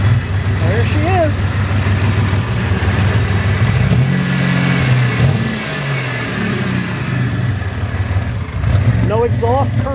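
A 1991 Chevrolet Camaro RS engine runs rough and loud with no exhaust fitted, a raw, unmuffled rumble rising and falling in revs, with voices talking over it and some squeaky chirps.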